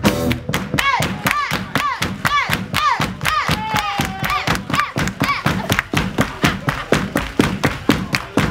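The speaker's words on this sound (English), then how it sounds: "I want y'all to give me a soul clap" Audience at a live soul show in a sports bar and grill doing a soul clap, with steady, loud, evenly spaced claps in rhythm while a singer vocalizes over the first half.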